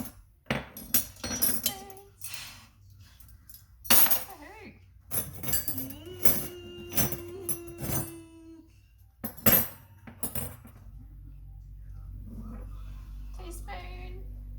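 Dishes and cutlery clink and clatter in a domestic kitchen as a dishwasher is unpacked, with scattered sharp metallic knocks and glassy chinks between stretches of talk from an adult and a child, ending in a steady low hum.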